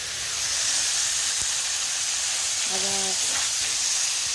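Meat frying in a pan with ginger paste going in, a steady loud hiss and sizzle running throughout, with a brief tonal squeak and a faint voice partway through.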